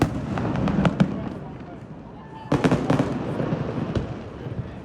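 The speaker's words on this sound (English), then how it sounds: "the fireworks are still going decently high" New Year's fireworks burst over Sydney in scattered sharp bangs and crackles, a cluster early on and another loud volley midway, some distant, with crowd murmur and voices underneath.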